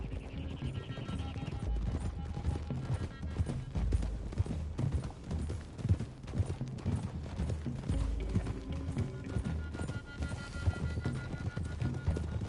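Horse hooves in Red Dead Redemption 2 clip-clop at a steady trot over a busy background, with faint voices now and then.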